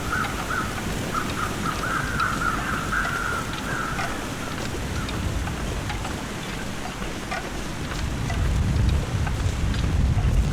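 Steady, heavy wind blows throughout in the survival game The Long Dark, with faint warbling bird calls early on and a deeper gusty rumble swelling near the end.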